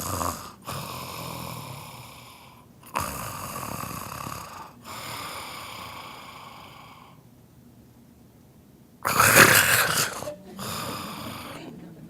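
A person imitates snoring with sleep apnea pauses: a few loud, rasping snores, then a long silent gap, then a sudden gasping snort as breathing restarts.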